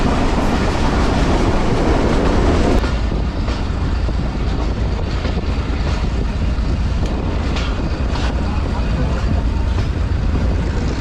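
The Mohenjo-Daro passenger train runs loudly along the track between Sann and Amri stations, a dense continuous roar of rolling wheels and rattling carriages heard from inside the car.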